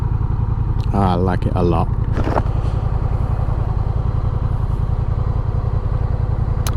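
A Honda Rebel 1100 motorcycle cruises on a highway, its engine a loud, steady low drone mixed with rushing wind throughout, while someone briefly speaks over it.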